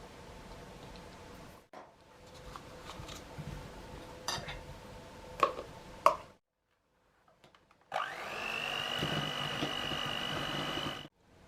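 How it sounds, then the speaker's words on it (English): Sugar and butter being creamed for a coffee and walnut loaf: a steady electric mixer whir runs for about three seconds near the end, after a stretch of scattered kitchen clatter and clinks. "First, cream the sugar and the butter."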